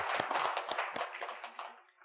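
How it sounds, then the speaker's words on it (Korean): A church congregation, standing during a service before a wedding, claps together in a short burst of applause, scattered hand claps close and fairly loud, fading out toward the end. "축하 한번 박수해 주시죠"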